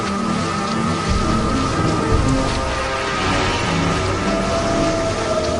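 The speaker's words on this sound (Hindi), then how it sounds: "अब की बार इतना तेज बारिश आ रही है कि गांव में बाढ़ आ गया है।" Heavy rain pours down steadily over a flooded village, a dense, constant wash of drops close by with no voices.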